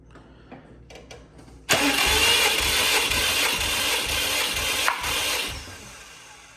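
A Subaru WRX STi engine cranks on the starter during a compression test. After a quiet moment, a loud, close, rhythmic chugging holds for about four seconds, then cuts off without the engine starting. No one speaks.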